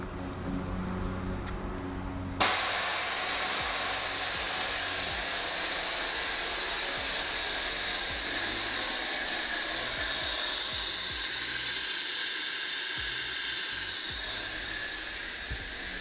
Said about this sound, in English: that allows me to turn off my air compressor or turn on my air compressor through this switch